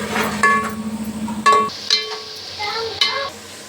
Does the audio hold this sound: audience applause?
no